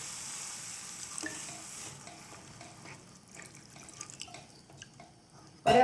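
Water splashes into a pan of sizzling sausage masala, a soft crackling fry rising briefly before a sharp, loud burst of hiss at the very end, with no voices.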